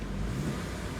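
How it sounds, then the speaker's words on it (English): A black Chevy Cobalt LT sits with its engine idling and the air conditioning running, a steady low rumble heard up close for a brief moment. "Car's on, AC's on."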